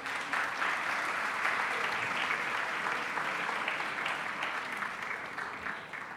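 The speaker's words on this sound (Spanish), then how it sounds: "Démosles un aplauso." A conference audience at a national science, technology and society congress claps steadily for several seconds, a moderate, even wash of applause that fades gently at the end.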